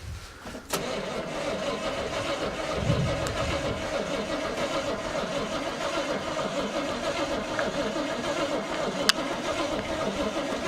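A Chevrolet Monte Carlo V8 cranks briefly and catches on a cold start, then settles into a steady, loud, close idle with a rough mid-range rumble that runs without a break to the end.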